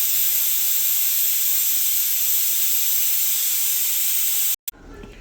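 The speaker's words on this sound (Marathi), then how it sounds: "इथे 3 शिट्ट्या घेऊन घ्यायच्या आहेत." Steam hisses loudly and continuously from a pressure cooker whistle during daliya khichdi cooking, then cuts off abruptly near the end, followed by a brief faint knock.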